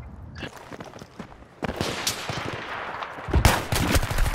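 Gunfire in the first-person shooter Battlefield 3: scattered single shots and short automatic bursts, some sharp and close, others more distant, with a loud cluster of cracks near the end over background battle noise.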